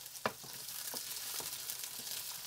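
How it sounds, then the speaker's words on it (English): Onion, carrot and cabbage being stir-fried in oil, giving a soft, steady sizzle with a few sharper clatters of stirring scattered through, fairly quiet and close with no talking. "Straight into your oil, I go in with my onion, my carrot and the cabbage, and I give all that a good stir."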